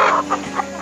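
Laying hens cluck in a coop during vaccination, three short close clucks in quick succession over a faint steady background hum.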